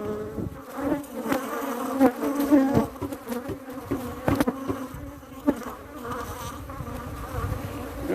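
Bees buzz around an open beehive whose field bees have died, a close, continuous droning hum that wavers in loudness as individual insects pass near.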